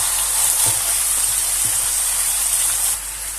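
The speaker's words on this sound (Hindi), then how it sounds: "हम इसे 2 से 3 मिनट तक चिकन को फ्राई करेंगे।" Two kilograms of chicken fry in a pan for shahi korma, giving a loud, steady sizzling hiss up close with a couple of faint soft knocks and the level dropping slightly near the end.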